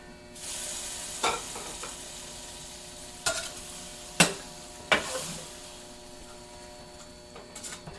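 Mongolian-style beef comes off a Vevor 22-inch flat top griddle with a faint, steady sizzle, punctuated by a few sharp metal spatula scrapes and clicks, heard close with no talking.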